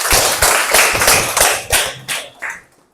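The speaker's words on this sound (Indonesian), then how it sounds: "Berikan tepuk tangan." A classroom of children clapping in unison, about eight loud, close bursts of many hands in a brisk rhythm that tapers off and fades to silence.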